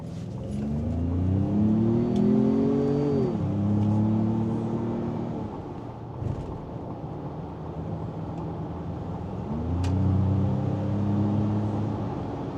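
A pickup truck with a 2.3-liter EcoBoost engine accelerates hard through two gear pulls, engine note rising then dropping at each shift, heard loud and close from inside the cab with steady road noise beneath.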